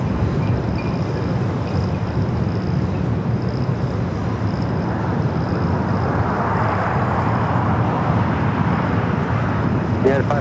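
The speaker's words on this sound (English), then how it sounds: "Next takeoff, American flight 1988 heading to Charlotte, A321 Neo." An American Airlines A321neo takes off at LAX with a steady, broad jet roar that holds strong throughout. Radio chatter and talk run beneath it.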